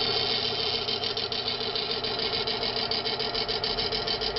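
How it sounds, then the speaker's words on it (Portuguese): An engine runs with no lubricating oil, only Militec-1 additive in the part, holding a steady, even mechanical drone with a faint rapid rhythmic ticking throughout, fairly loud and alone. "motor está trabalhando a mesma coisa, sem o óleo lubrificante, só com o Militec na peça"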